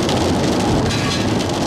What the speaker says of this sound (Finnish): tänään sataa